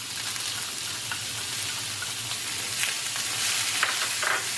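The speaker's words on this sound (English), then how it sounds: "And I'm going to throw in the onions. These green onions are right in there." Green onions sizzling in a frying pan give a steady, broad hiss that swells slightly toward the end, with faint scattered pops and stirring clicks and no voices.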